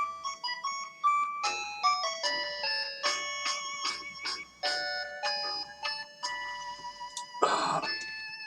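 A mobile phone rings during a recording, playing a bright electronic melody of short, clear tones in quick steps that repeat for several seconds, close and fairly loud, with no talking over it.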